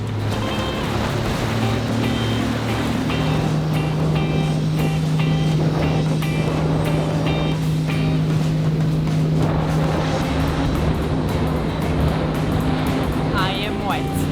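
A boat motors slowly at about 5 knots, a steady low engine hum running under wind and water noise throughout, close and fairly loud.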